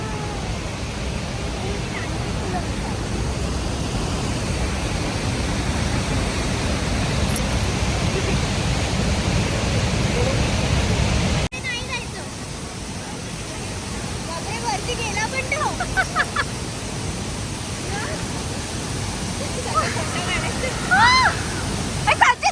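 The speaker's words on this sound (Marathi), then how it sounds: "किती खळखळाट आहे पाण्याला" Bridal Veil waterfall in Canada rushes with a steady, full roar of falling water, loud and unbroken for the first half. After that the water sounds softer, with faint voices and small handling noises mixed in.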